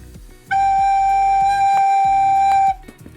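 A recorder sustains one steady note for about two seconds, held for three beats, loud and clear over a soft background beat with no talking.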